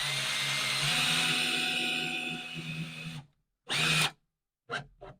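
A power drill drives screws through a soft-material wall map frame into studs. It whines steadily for about three seconds, stops, then gives two short bursts, close and loud.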